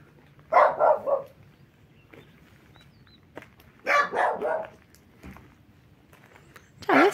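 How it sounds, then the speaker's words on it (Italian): A dog barks in an old hill village in Tuscany with cobbled lanes, giving three separate bursts of several quick barks each, moderately close and spaced by quiet outdoor background. "Un cane."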